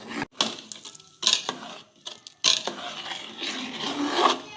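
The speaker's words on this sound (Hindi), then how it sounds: "अगर गुठलियाँ होगी तो हम इसे ऐसे ही घोट घोट कर निकालेंगे।" A spoon scrapes and presses through rice lumps while stirring thickening kheer in a pot, giving irregular close scraping and rubbing strokes separated by brief pauses.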